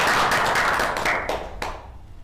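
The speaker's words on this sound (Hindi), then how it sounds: "पूरी टीम हम 1 मिनट तालियां बजा करके उनका स्वागत करें।" A team claps together to welcome visiting guests at a business gathering, a brief burst of hand claps that tails off into a quieter room within about two seconds.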